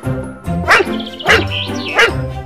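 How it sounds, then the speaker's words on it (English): Cartoon dog barking for the letter D in a children's ABC alphabet song, three bright yapping barks spaced evenly over a musical backing. "D for dog."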